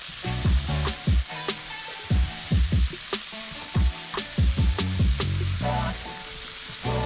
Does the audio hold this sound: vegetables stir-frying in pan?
yes